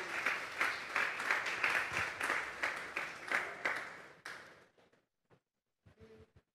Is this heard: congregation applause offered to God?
yes